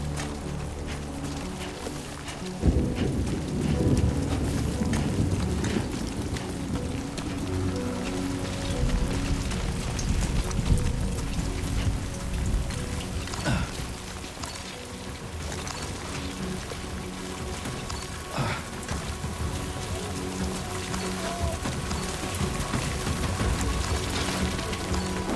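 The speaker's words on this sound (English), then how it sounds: "Great. Rain. Gotta move." Steady rain pours and patters on surfaces in the video game Death Stranding 2, a dense hiss that swells after a few seconds and stays loud, with game music faintly underneath.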